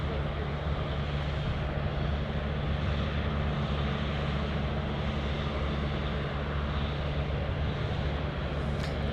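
An airliner takes off at Anchorage airport with a loud, continuous, heavy engine roar and deep rumble that holds steady for the whole stretch.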